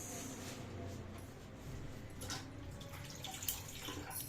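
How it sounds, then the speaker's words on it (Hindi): Hands being washed under a running kitchen tap, with a steady soft stream of water and light splashing and dripping, fairly quiet and close, with no talking. "हाथ धो लिए हमने अच्छी तरह।"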